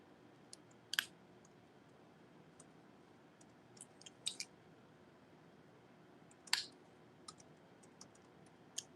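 Nail clippers trimming a fingernail at close range, giving a few sharp isolated clicks spaced a couple of seconds apart over a quiet background.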